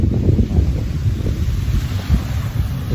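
Steady wind buffets the microphone while sea waves wash and churn nearby at a resort in Siargao, a continuous rough rumble with no voices.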